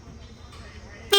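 A car horn bursts out loudly for a brief moment at the very end after a stretch of quiet background noise, triggered from the horn relay in a fuse box, likely on a Mahindra Scorpio.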